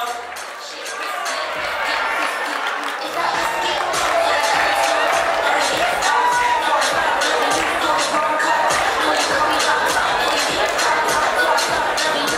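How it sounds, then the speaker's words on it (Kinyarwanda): Loud, sustained applause and cheering from a large crowd at a Rwandan film awards ceremony, steady clapping that swells slightly and continues throughout. "Amashyi menshi cyane kuri Bamenya."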